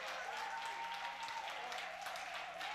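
Congregation applauding during a church sermon, a dense, steady wash of clapping that continues at even loudness throughout with no voices on top.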